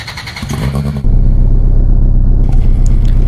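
A Ford RS200 Evolution engine in a Roblox game cranks, then catches and settles into a loud, steady low rumble at idle, heard up close with no talking.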